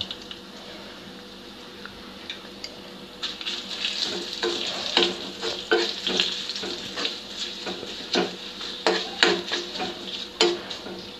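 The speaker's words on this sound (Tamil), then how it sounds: "போட்டுட்டு இதையும் நல்லா வதக்கி விட்டுருங்க." Dried red chillies for a raw ripe mango pickle are stirred in hot oil in a pan, a soft sizzle under repeated scraping and clinking of a spoon against the pan.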